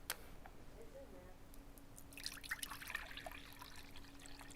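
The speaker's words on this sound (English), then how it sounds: "Next, you're going to add 2 cups of cranberry juice." Cranberry juice poured into a pitcher for a Christmas morning punch, a faint liquid trickle and splash that swells after a quiet start and runs steadily to the end, close by under a low background hum.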